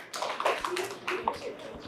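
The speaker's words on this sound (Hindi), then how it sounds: "ज़ोरदार तालियां मैम के लिए" An audience claps for a female teacher at a school gathering. The clapping is a short, uneven burst of close hand claps with a few voices mixed in.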